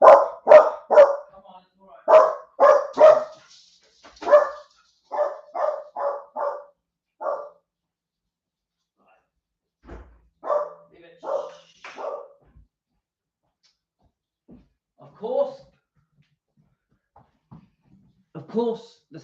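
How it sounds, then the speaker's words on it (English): Dogs bark indoors in rapid, close volleys of sharp barks, then pause and break into scattered shorter bursts, with a voice speaking at times between them. "Of course, the second I go live, the dogs bark."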